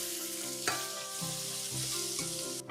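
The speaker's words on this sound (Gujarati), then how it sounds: "ત્યારે આપણે આપણા કાંદા ઝીણા સમારેલા નાખી દેશું" Finely chopped onions fry with cumin in hot oil for dal makhani, a loud, continuous close sizzle with a few soft stirring knocks.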